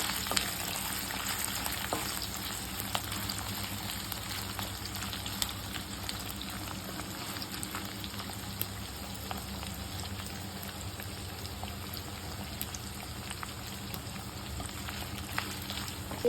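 Dried fish frying in a pan: a continuous, even crackling sizzle holds for the whole stretch, moderately quiet and close, with tiny pops scattered throughout and no voices.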